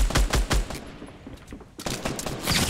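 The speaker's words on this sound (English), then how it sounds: "I'm firing at them." Rapid Fortnite gunfire crackles close and loud, a quick string of automatic shots, then a brief lull before another burst resumes.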